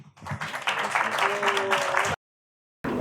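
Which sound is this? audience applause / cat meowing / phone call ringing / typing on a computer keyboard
audience applause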